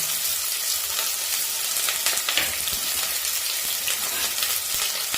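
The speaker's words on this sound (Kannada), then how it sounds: "ಮೆಂತ್ಯ ಹಾಕಿದ ತಕ್ಷಣ ಬೆಳ್ಳುಳ್ಳಿ ಮತ್ತೆ ಈರುಳ್ಳಿ, ಕರಿಬೇವಿನ ಸೊಪ್ಪು ಹಾಕೋಣ." Fenugreek, garlic, onion and curry leaves frying in hot oil for a dry fish curry, an even, dense crackling sizzle with a few faint stirring taps, close and continuous without speech.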